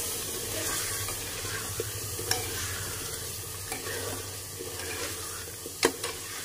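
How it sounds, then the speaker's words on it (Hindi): Spices stirred and roasted in a pan for shaljam gosht, turnip and meat curry, a soft continuous sizzle broken by scraping stirs and a few sharp clinks of the spoon against the pan, close up, no talking. "बस ये मसाले डाल देते हैं और इसे अच्छे से हम भून लेंगे।"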